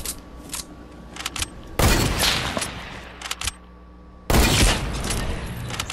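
Two loud, abrupt bursts of video-game gunfire from a one-shot, limited-time mode, each blast ringing out and decaying, with quieter clicks and game noise between them.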